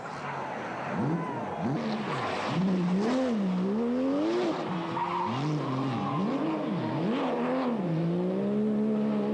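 Porsche GT3 rally car on a snowy stage of the Rally Ardenne, engine note rising and falling sharply through hard revving and gear changes, loud and continuous at close range.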